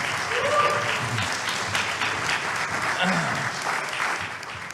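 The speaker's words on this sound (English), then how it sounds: "maybe you guys can give Jimmy a stand-up applause" Sustained audience applause fills a men's club event held around a biblical debate, steady dense clapping from a sizeable crowd with a few faint voices mixed in.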